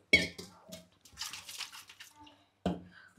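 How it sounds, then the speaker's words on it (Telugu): Water pours into a cooking pot of pounded tender tamarind being cooked, a brief splash, then a longer rushing, gurgling pour, then another short splash, fairly close and moderately loud. "కొన్ని నీళ్ళు యాడ్ చేసుకుందాం"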